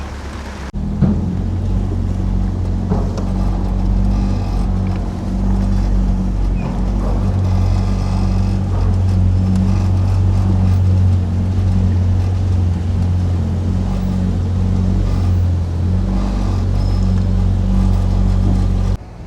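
A Triumph Spitfire, back on the road after twenty years parked, drives through heavy rain, its engine a loud constant low rumble beneath the steady hiss and drumming of rain.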